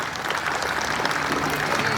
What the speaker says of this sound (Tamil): எங்கே மறுபடியும் ஒரு வாட்டி ஒரு பெரிய ஒரு கைத்தட்டல் கொடுங்க பார்ப்போம்